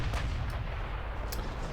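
Naval artillery thunders in the warship game Ultimate Admiral Dreadnoughts, a dense, sustained low rumble of heavy gunfire with a couple of sharper bursts layered over it, loud and continuous throughout.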